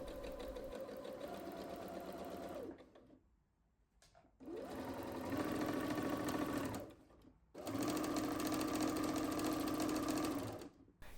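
A sewing machine stitches along the inner fold of a dress hem, running in three long steady bursts separated by short pauses, the motor's hum close and even with no talking.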